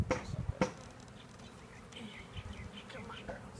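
Honeybees buzz around an open beehive on a farm, a soft continuous drone with a few louder passes near the start, faint and close with a voice murmuring briefly.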